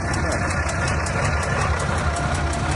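A GAZ 4301 truck with a 125-horsepower engine, started after two and a half years of standing, idles with a steady, loud low rumble that runs unbroken throughout.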